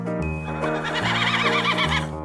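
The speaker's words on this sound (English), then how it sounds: "Horse." A horse neighs loudly and close, one long shaky whinny running through most of the moment, set over a bouncy musical backing.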